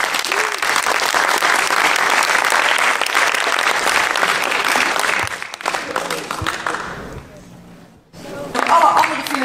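Loud, dense applause from a festival audience at a comic strip festival in Breda, sustained for several seconds, then thinning and dipping before a brief swell of clapping and voices at the end.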